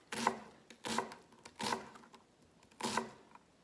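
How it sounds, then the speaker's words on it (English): A knife slices straight down through an onion held by its root end onto a cutting board, giving four crisp, separate chopping thuds at a steady pace, close and alone. "I'm gonna slice straight down,"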